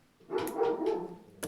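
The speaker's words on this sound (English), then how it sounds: "I wish the dogs would stop barking." Dogs bark in a workshop where leather wallets are being sewn, a short burst of several overlapping barks at moderate level, fairly close, with no talking.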